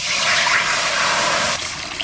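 Water pours steadily into a cooking pot for pumpkin greens, a brief, close, rushing splash that eases off near the end.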